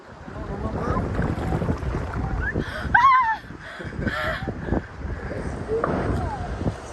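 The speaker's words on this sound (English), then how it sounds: "Forgive the wind, it's crazy" Strong gusty wind buffets the microphone outdoors by the water, a loud rumbling roar that persists throughout, with a few brief shouts and voices heard over it.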